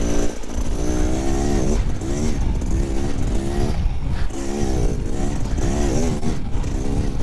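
A 2024 Beta Xtrainer 300 two-stroke dirt bike is ridden hard over bumpy terrain, its engine loud and close with rising and falling revs as the throttle opens and eases.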